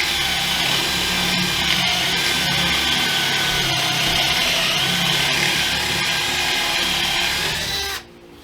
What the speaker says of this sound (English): I'm just gonna start routing.